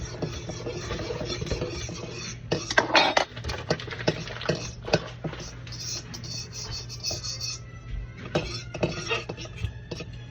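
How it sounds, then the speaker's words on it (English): A fork whisking a mixture in a bowl while making homemade bagels, quick irregular metallic clicks and scrapes against the bowl, close and moderately loud over a steady low hum, with brief speech in places. "you can take this fork and just kind of whisk it a little bit"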